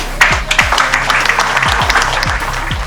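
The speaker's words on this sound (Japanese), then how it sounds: "乾いた拍手が不穏な空気を助長する。" A small group gives a thin, sparse round of clapping, a few scattered hands slapping close by in an uneven rhythm over a low electronic background hum, with no voices.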